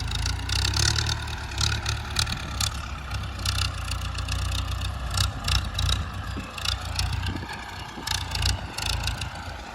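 A Ford 5000 tractor engine runs in a field with hard soil, a steady low rumble with clattering mechanical noise on top, continuous and fairly close.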